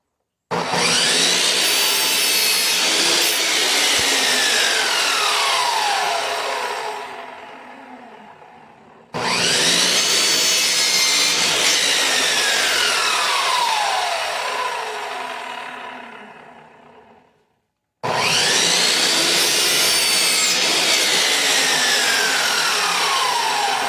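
A saw blade cutting through the corners of wooden pieces for fall craft projects, three long harsh cuts, each trailing off as the blade finishes, close and without talk.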